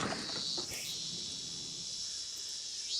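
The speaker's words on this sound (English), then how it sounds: "The energetic shrill of the cicadas when completely unheard by their ears." Cicadas shrill in a dense, steady high-pitched buzz in the visual novel game Higurashi, loud and unbroken throughout, with some faint low sounds early on and no clear talking.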